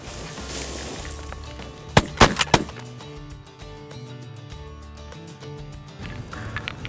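Shotgun fire during a goose hunt in Saskatchewan: three sharp, loud blasts in quick succession, standing out clearly over quiet outdoor ambience that continues afterward.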